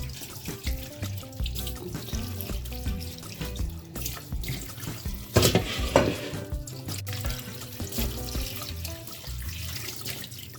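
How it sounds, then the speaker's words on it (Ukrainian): Running tap water rinses a cleaned and gutted crucian carp in a sink, a continuous close splashing rush that shifts as the fish is turned under the stream, with a louder burst midway. "тепер дуже хорошо промию її під проточною водичкою"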